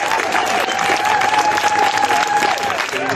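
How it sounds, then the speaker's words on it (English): Steady, dense applause from a large crowd at an outdoor Earth Day rally in a park, with a few voices calling out over it before it starts to fade. "a big welcoming round of applause for Phil Peaster"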